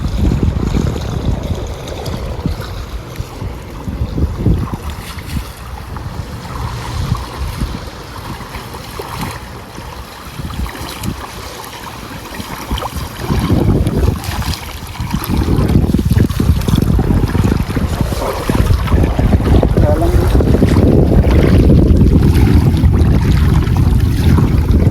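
A fishing boat runs fast across open water, its steady motor drone mixed with rushing spray and wind buffeting the microphone, growing louder and rougher toward the end.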